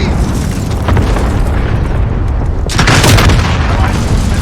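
A grenade explodes in a first-person shooter game, a loud, close boom that swells over an already noisy bed of gunfire and battle sound.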